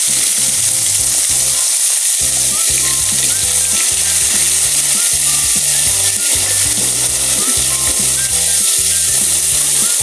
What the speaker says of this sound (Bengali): এখন আমরা এখানে মাছগুলো দিয়ে দিব এক এক করে। অল্প করে ভাজতে হবে